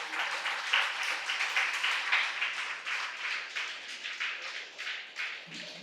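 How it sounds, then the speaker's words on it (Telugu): An audience at a Naada Dhyana Yagnam music-meditation gathering in Bhimavaram claps together. The applause is moderately loud and sustained, with a pulsing, slightly rhythmic swell for several seconds. "ఒకసారి గట్టిగా చప్పట్లు కొడదాం"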